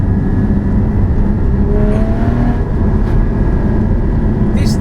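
A Porsche Cayman 981 GT4 with Fabspeed headers is driven in third gear, its engine giving a loud, steady, smooth drone heard from inside the car.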